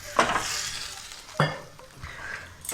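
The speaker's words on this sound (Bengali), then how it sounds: "আর একটু আমি জল দিয়ে দিচ্ছি।" Water goes into a pan of Bengali bottle gourd curry with fish head, bursting into two loud hissing splashes that settle into a softer simmering sizzle.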